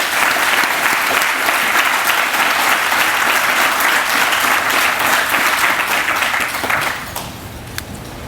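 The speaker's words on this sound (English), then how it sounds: "So just a round of applause to a great development team to pull this off." Sustained audience applause at a groundbreaking ceremony for a housing resource center, dense steady clapping from a sizable crowd that holds for about seven seconds before thinning out near the end.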